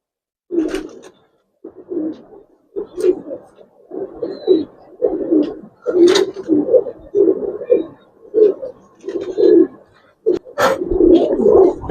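Giribaz coloring pigeons cooing in a loft, repeated throaty coos in uneven bursts close by, with some wing flutter and someone talking over them at times.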